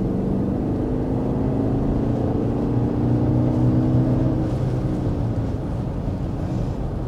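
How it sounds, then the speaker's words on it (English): A 2024 BMW X3 engine pulls smoothly under acceleration, a steady, refined hum heard from inside the cabin with rising tones sweeping upward and a constant wash of road and wind noise, no talking. "it's a very refined engine note, and that's something that I truly appreciate about this X3 model"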